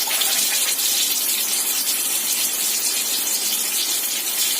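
Tomatoes fry in hot oil for a tomato egg omelet, giving a steady, dense hiss and sizzle that fills the whole span with no talking.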